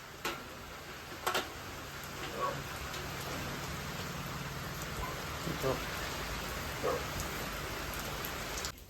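Steady rain during a windstorm hisses across the whole stretch, with scattered drops ticking sharply against a nearby surface.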